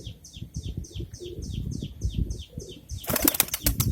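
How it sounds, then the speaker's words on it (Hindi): Rapid rhythmic wing flaps of pigeons taking flight, close by, ending in a louder flurry of beating wings. "बहुत छोटे और पतले कबूतर हैं ये, और बहुत डूब के उड़ते हैं ये कबूतर।"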